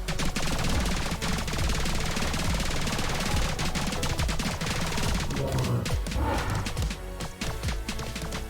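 Dense rapid-fire gunshots in the shooter game Rhythm 'n Bullets, a continuous loud barrage of bursts layered over driving game music with no pauses.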